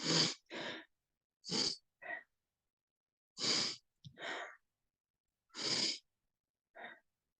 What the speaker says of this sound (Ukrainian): На видих вдаряємо животом так всередину, дихання вогню називається.